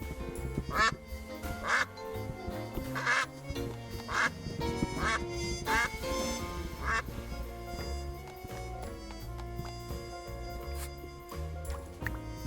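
Repeated duck quacks from the video game Duck Detective, about six short calls spaced roughly a second apart early on, over a steady bed of game music.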